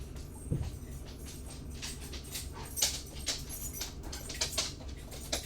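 A pet dog in the Morrowind video game whimpers softly for water, sending out a run of faint, high, breathy whines and panting sounds over a low background hum, with no voices.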